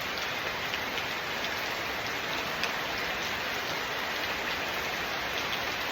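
Heavy rain pours down steadily outdoors, a dense, even hiss of drops hitting the ground and surfaces, close and loud throughout with no voices.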